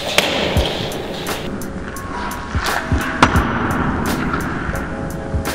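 Skateboard spinning through a full cab no-comply on pavement, with several sharp wheel clacks and board slaps scattered over rolling wheel noise and a steady background hum.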